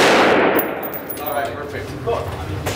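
A single loud gunshot at a shooting range cracks at the very start, then its echo fades away while a person talks faintly.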